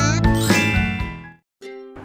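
A notification bell sound effect rings out as bright, tinkling chimes, one ringing tone fading out, then a short second ding after a brief silence.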